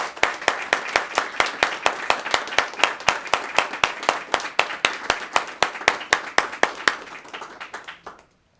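A press-conference audience claps steadily and evenly for several seconds, each clap sharp and distinct, before the applause stops abruptly.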